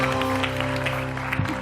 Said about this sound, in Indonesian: Tepuk tangan dulu buat Tina Tun dan juga Tina Tun